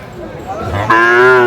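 A Sahiwal breed bull at a cattle market gives one loud, close lowing moo that swells and holds, with a bit of crowd murmur beneath.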